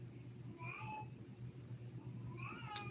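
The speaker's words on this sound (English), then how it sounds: "My cat is in there meowing." A cat meowing just after being fed indoors, two drawn-out meows about two seconds apart, faint and slightly distant over a low steady hum.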